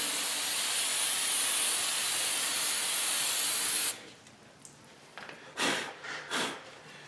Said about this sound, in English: we typically spray these with fluid film